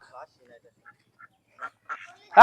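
Ducks quack in a handful of short, separate calls during a blindfolded duck-catching game, with a louder cluster of quacks near the end and some talk nearby.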